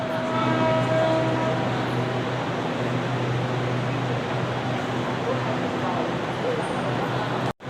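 SRT Red Line electric train pulling into the platform at Bang Sue station, a steady loud rumble with a low motor hum and whining tones throughout, ending in a brief abrupt cut.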